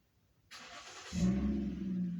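A car passes outside, its engine rising in from near silence and then holding as a steady, fairly close rumble and hum.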